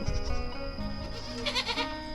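A goat in a rural Lao village bleats in a short, wavering cry close by, with faint background noise and no speech.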